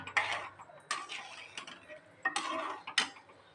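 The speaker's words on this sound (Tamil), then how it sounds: "நல்லா நம்ம வதக்கி கலக்கி விட்டுக்கலாம்" A spoon scrapes and clinks against a pan of yam kurma gravy in several short bursts of stirring, close and fairly quiet.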